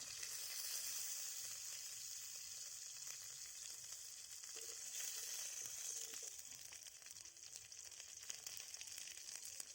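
Whole garlic cloves sizzling steadily in hot oil with cumin seeds and dried red chilli for a mushroom dish, a continuous close frying hiss with no voices.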